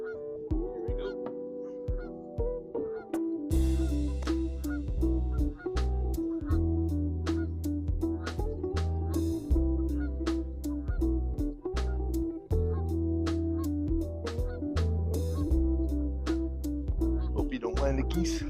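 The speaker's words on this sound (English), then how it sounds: "Hope you don't mind the geese talking in the background." Geese honking by a lake in a long series of repeated calls, steady and moderately close, with sharp clicks and knocks scattered throughout.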